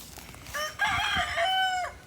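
A rooster crows loudly and close by among chickens on a fruit farm, one drawn-out crow with clucking hens around it, and no talk.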